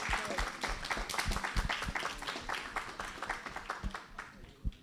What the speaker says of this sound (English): So a big round of applause to all the parents who came here.